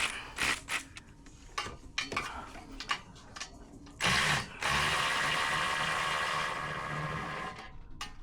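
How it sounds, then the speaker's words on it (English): A hand ratchet clicks in short bursts while loosening a header bolt on a twin-turbo Ford Mustang S650, close and crisp, followed by a longer steady mechanical whir. "See if we can get it with the ratchet."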